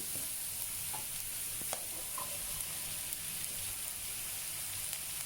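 Okra stirred into sautéed onion and garlic in a hot pan sizzles steadily close by, with scattered clicks and scrapes from the spoon and no talking.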